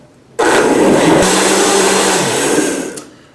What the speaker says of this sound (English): I'm just gonna blend it for a good 30 seconds and let it really liquefy